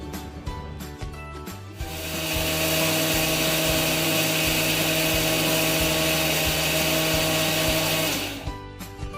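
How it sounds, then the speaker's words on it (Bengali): An electric grinder grinds rice into fine flour. Its motor kicks in with a loud, steady whir that runs for about six seconds and then winds down, with quieter rattling before and after. "চালটা মিহি করে গুঁড়ো করে নিয়েছি"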